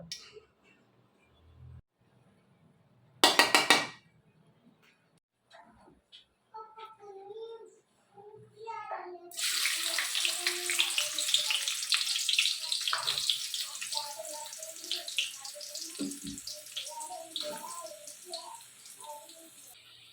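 Mutton being washed under running water from a tap, a steady splashing stream with handling noises during preparation for a simple mutton dum biryani, preceded by a brief loud burst and scattered kitchen clatter.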